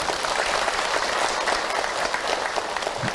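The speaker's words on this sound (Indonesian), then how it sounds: "Tepuk tangan Bu untuk Ahilman." An audience at an Islamic dakwah talk gives steady, dense applause for the speaker, many hands clapping together in an even wash from start to finish.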